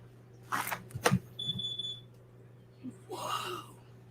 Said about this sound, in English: The alarm it's a sensor and it'll beep, beep, beep on the alarm pad